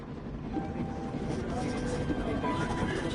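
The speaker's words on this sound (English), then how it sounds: "And so I'm on a train heading out of Germany, where I write to you now" A train journey in the video game 11-11: Memories Retold: a steady, dense rumble of the moving train carriage runs unbroken and fairly loud, with faint higher rattling on top.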